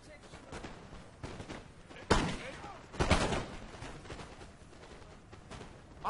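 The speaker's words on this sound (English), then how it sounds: "Taking shots from these musketeers" Musket volleys crack out in a Napoleon: Total War battle, with two sharp, loud bursts standing out over a busy background of scattered distant gunfire and battle noise.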